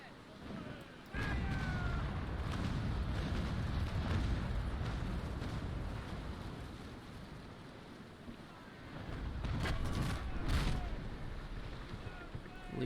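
Cannon fire from a ship of the line in Naval Action, the Le Bucentaure battling a third-rate, heavy booming rumble mixed with sea and wind, fairly distant and low in level, with a voice talking over it.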